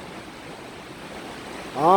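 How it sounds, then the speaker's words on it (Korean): Steady rain and flowing water under a bridge make a broad, even hiss and rush throughout, with a voice starting to speak near the end. "여기 다리 밑이지만 빗소리에다가 물 흐르는 소리까지 합쳐져서 아주 아름다운 하모니를 이루고 있습니다."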